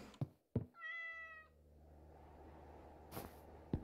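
A cat in Streamer Life Simulator gives one clear, close meow between a few soft thuds and knocks.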